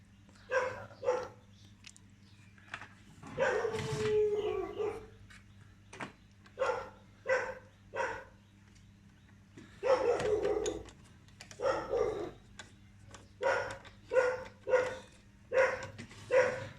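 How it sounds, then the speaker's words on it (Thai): A dog barks repeatedly in short bursts and clusters of sharp woofs, fairly close, with gaps between groups and a low steady hum underneath. "สุนัขนี่ก็เห่าได้จริงๆเลย"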